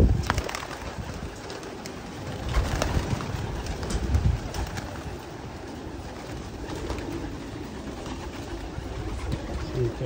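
Pigeons cooing in a loft where the birds are kept, a steady murmur of soft calls and rustling over continuous background noise, with occasional thumps and shuffles, fairly close.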